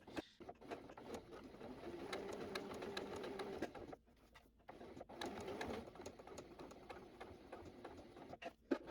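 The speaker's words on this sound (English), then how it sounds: "just top stitch along each side of the seam to just keep this seam allowance neatly" Close-up sewing machine top stitching along each side of a bra lower cup seam, a steady fast mechanical whirring and ticking that briefly stops around the middle before running again, faint and with no talking.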